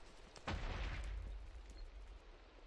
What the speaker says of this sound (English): explosion from somewhere, I have no idea where that was from